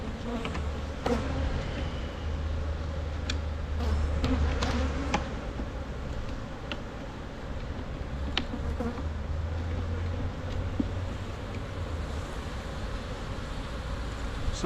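Honey bees buzz steadily around an opened beehive, a dense, close, continuous drone with occasional sharper passes of individual bees and faint handling knocks, no voices.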